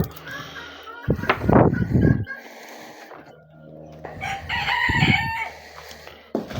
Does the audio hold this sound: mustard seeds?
no